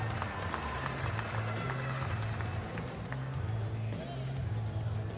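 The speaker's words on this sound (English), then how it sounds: "one more big round of applause" Crowd applause at a women's timbersports championship, steady clapping and cheering from a large audience while an announcer talks over it.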